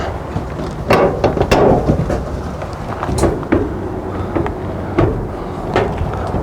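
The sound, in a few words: plastic front panel of an Ariston dryer being clipped back on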